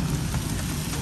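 Dense, steady pattering of hailstones drumming on a Mahindra Scorpio's metal body nearby, a continuous loud clatter with no pauses.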